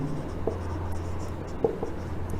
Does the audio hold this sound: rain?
no